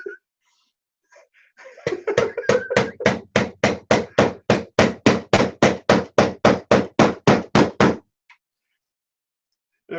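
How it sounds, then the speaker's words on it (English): A bigger hammer pounds steadily during a live build of a Printrbot Smalls 3D printer, about twenty sharp, evenly spaced blows in a fast, regular rhythm, close and loud, then it stops. "a bigger hammer"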